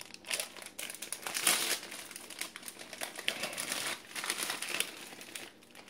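An MRE accessory packet from a 2017 US pizza ration is torn open, its plastic crinkling and rustling in close, irregular bursts with no talking.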